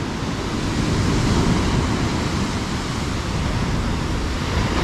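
Steady ocean surf washes onto Seruni Beach in Donorojo, Pacitan, in a continuous broad hiss and rumble, fairly close, with no voices.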